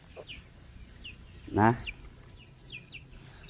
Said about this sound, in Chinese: 你看这个小鸡仔都来这里了